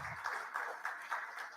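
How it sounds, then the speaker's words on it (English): A conference audience at an education festival applauds a panel chair coming on stage, a faint, steady patter of many hands clapping with a few louder pulses, heard from a distance. "Please welcome her with a round of applause"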